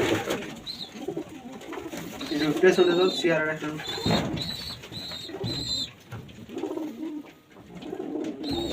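Racing pigeons from a loft, flown in a 100 km race, coo repeatedly in soft rising and falling calls, with someone talking over them throughout.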